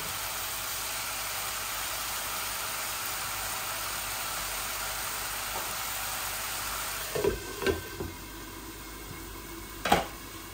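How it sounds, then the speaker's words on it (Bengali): Chicken nuggets cook in a dry pan without oil, giving a steady soft sizzle throughout, with a few sharp clinks from turning or stirring near the end. "এই যে চিকেন নাগেট গুলা বিনা তেলে আমি করতেছি"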